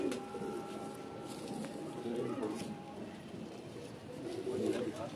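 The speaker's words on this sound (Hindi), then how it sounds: "तो ये बड़ा कबूतर है।" Pigeons coo softly and repeatedly in a loft among a keeper's large birds, low murmuring calls layered over steady background noise and scattered voices talking nearby.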